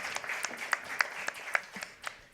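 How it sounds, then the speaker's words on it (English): Sparse, scattered hand claps from a small audience at a Nordic summit on gender equality in the news, a few distinct claps spread across a brief, fairly quiet burst. "I think it's an applause for"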